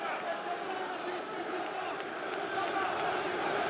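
French fight crowd at a PFL Paris MMA event roars in support of the local fighter, a distant, sustained arena din with a commentator talking over it.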